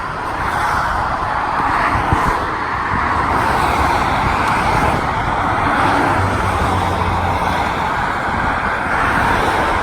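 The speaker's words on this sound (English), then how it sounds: "those cars just flying past underneath me as I was walking over this bridge there with Marty" Steady roar of cars speeding along a road beneath a footbridge, heard from above while walking across, a continuous loud wash of traffic with no break.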